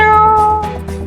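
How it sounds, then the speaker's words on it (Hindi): A cat meowing in a hospital drama: a loud, close, drawn-out tonal cry with steady harmonics, softening slightly toward the end. "आपने बिल्ली की आवाज सुनी थी ना?"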